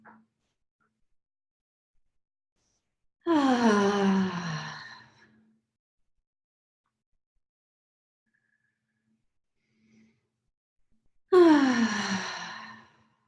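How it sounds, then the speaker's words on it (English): Two slow, deep conscious breaths, each a long, close, airy exhale lasting about two seconds, separated by a long stretch of silence, with no talking. "So taking 3 more conscious breaths."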